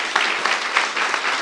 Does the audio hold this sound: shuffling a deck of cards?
no